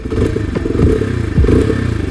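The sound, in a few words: motorcycle engine and exhaust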